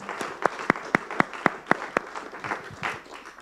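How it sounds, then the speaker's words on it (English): An audience at a climate and extreme-weather workshop applauds its speakers: a run of about nine sharp, fairly regular claps that stand out clearly, then thinning into softer, scattered clapping at the end. "please help me to give our excellent speakers a well-deserved round of applause"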